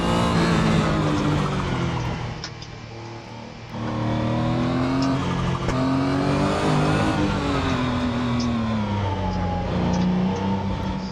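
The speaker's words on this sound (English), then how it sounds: "it was a lap of the Nordschleife in a Porsche 911 GT1" A Porsche 911 GT1 race car engine revs hard through a lap of the Nordschleife in Assetto Corsa, its loud, continuous whine rising and falling with gear changes and a brief dip as it lifts off.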